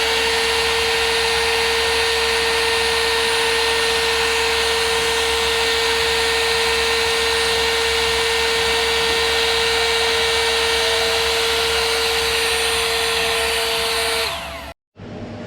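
Heat gun warming TeckWrap Hunter Green vinyl on the corners of a Lexus RC F front bumper, a loud steady blowing whine running nonstop before cutting off at the end.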